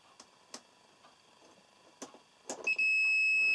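A multimeter beeps during a continuity test of an electric kettle's power switch: a few faint clicks, then a loud, steady, high continuous tone starting near the end and holding to the close.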